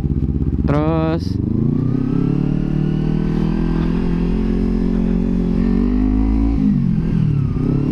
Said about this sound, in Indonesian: Selain suara dua silinder stereo ini dari si bagian knalpot, suaranya enak banget